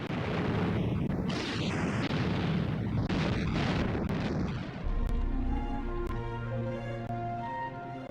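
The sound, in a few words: tank cannon fire in combat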